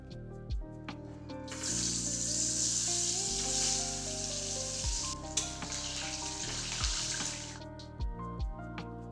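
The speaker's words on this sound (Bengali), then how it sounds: "আলুর মধ্যে লবণ ও হলুদ মাখিয়ে গরম তেলে লো আঁচে ভালো করে ভেজে নিয়েছে" Potatoes coated in salt and turmeric fry in hot mustard oil over a low flame, a steady close sizzle that swells after the first seconds, with a few soft clinks and water-like splashes scattered through it.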